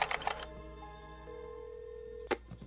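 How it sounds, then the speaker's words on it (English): A telephone in a radio drama gives a short burst of rapid ringing, then a steady electronic tone. The tone ends in a sharp click, with a quiet, hushed background throughout. "Phone company, Miss Finch speaking"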